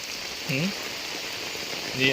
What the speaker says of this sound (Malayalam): വെള്ളം നിറഞ്ഞു വെള്ളം നിറഞ്ഞു മഴ കൂടി